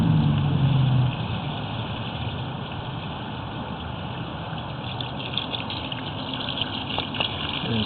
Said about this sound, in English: Run a little bit of hose water down here.